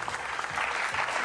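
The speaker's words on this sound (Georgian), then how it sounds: "აპლოდისმენტები" Audience clapping continuously at a Georgian comedy award show, a dense, steady burst of applause filling the hall throughout.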